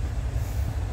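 Inside a VR Intercity double-decker train in Finland, a deep, steady low rumble of running gear fills the carriage, constant and fairly loud with no voices.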